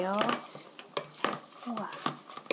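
Hamburg steak mixture of ground meat, onion and two tablespoons of flour being stirred together in a bowl, with light clinks and scrapes of a utensil against the dish in short irregular strokes.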